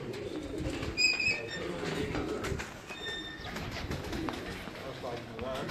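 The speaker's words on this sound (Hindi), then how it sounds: "जो कबूतर अब आप देख रहे हैं ये मेन ब्रीडर हैं इनके" Breeder pigeons coo softly on a rooftop loft, with low, gentle calls repeating against a murmur of background activity and people talking nearby.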